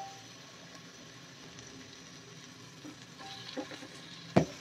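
Goat head and trotters cook in a spice masala with a faint, steady sizzle and light stirring, ending in one sharp clatter.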